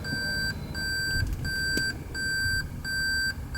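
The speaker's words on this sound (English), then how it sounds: "So one dislike about the car is that beeping sound." A high electronic beep repeats at a steady pace over a low engine hum, each tone held about half a second, the repeating reverse warning of a 2016 Toyota Prius.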